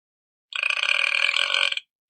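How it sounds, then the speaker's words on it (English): A single drawn-out burp from a cow, loud and close, lasting just over a second and heard alone against silence. "Laugh all you want, but cow burps contain a harmful gas called methane."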